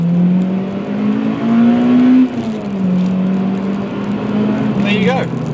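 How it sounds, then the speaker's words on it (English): A Honda Civic EP3 Type R engine revs hard in first gear into VTEC toward its 8,500 rpm limiter with a bit of wheelspin. The loud, close tone climbs in pitch, dips sharply, then rises again. "this is a first gear VTEC now. Bit of wheel spin"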